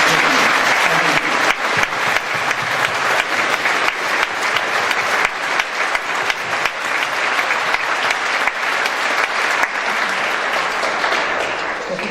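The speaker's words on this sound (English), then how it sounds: "So if we could give a big round of applause now." An audience claps at a school summer concert, a sustained wash of many hands in a hall, loud and steady for about twelve seconds before tapering slightly near the end.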